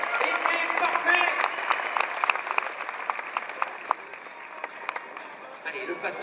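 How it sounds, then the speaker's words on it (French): Audience applause fills an indoor arena at a show jumping event, a dense burst of clapping that slowly thins out while an announcer keeps talking over it. "ça vous pouvez applaudir parce que le geste était parfait"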